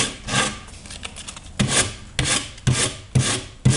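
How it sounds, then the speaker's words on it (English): Rhythmic abrasive rubbing of sandpaper on a wooden bow, sanding off a rawhide backing, close up, in strokes that grow into a steady back-and-forth pattern. "just sanding it down"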